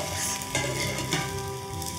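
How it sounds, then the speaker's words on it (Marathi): An omelette fries in a pan, a dense, even sizzle running the whole time close up, with a couple of soft shifts midway, no one speaking. "ही वरची बाजू पण व्यवस्थित भाजून घेऊया"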